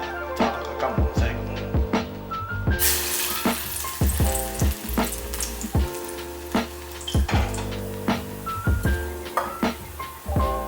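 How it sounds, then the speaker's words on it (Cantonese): Ginger slices fry in simmering soy sauce until golden for a rice noodle roll sauce, giving a steady, close crackling sizzle with occasional sharper pops and clinks throughout. "放啲薑落去，炸到佢金黃色"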